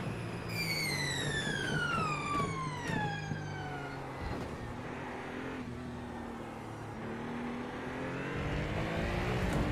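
A Cadillac GT3 race car in a racing game at Spa, its engine note climbing through gears in rising whines with shifts, then droning steadily at a distance, fairly faint.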